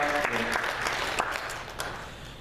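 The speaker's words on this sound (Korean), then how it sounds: "먼저 우리 유대교회 경례 감사의 박수 합시다" A church congregation applauding during a Sunday worship service, a moderately quiet, steady patter of many hands with a few sharper individual claps standing out, no voices on top.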